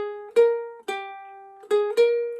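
Plucked ukulele notes of the God Save the Queen melody, four bright ringing plucks with harmonic overtones, played slowly and alone at close range for a beginner lesson.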